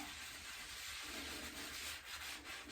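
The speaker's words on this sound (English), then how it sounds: "do a little clean, good scrub on the bottom" A dug glass bottle is scrubbed with a brush, giving close, continuous scratchy rubbing with slight surges in rhythm, no talking over it.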